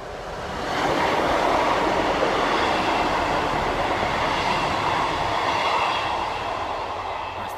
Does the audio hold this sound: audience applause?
no